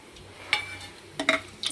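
Masala spices fry in oil in a pan for goat head curry, with a soft sizzle under a few quick scraping stirs and light metallic clinks close by.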